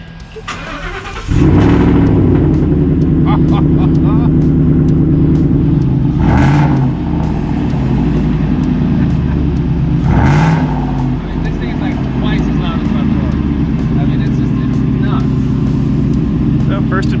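A Ford F-150 pickup truck engine cranks and catches, then settles into a loud, close idle with two sharp revs rising and falling, while someone talks faintly underneath.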